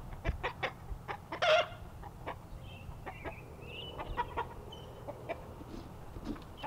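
A rooster in a spring garden lets out short, scattered clucks and a louder squawk at moderate distance, over a quiet outdoor background.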